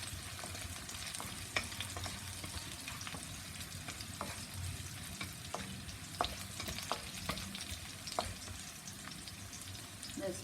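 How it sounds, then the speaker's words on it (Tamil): Chopped green chili frying in hot oil in a pan, a faint continuous crackling sizzle with scattered small pops and occasional utensil taps, heard close and alone. "அதை வந்து கட் பண்ணி வச்சுருக்கதை போடுறேன். ஃப்ரை பண்ணிக்குவோம்."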